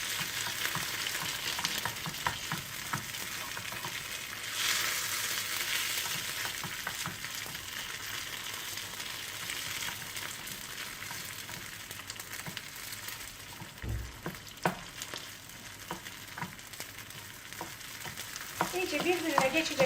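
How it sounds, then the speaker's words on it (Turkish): Mashed potatoes get stirred and folded into fried tomato paste in a pan, a steady soft sizzle with scraping and squelching stirs running continuously and close, with no talking. "Güzelce patatesimizi harmanlıyoruz."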